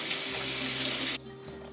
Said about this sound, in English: Wet your hands.